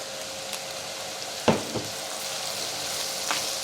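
Pechay stock poured into a hot pan while cooking pansit habhab, steady sizzling and frying hiss with a sharp splash-burst as the liquid hits, followed by a few softer stirring clatters.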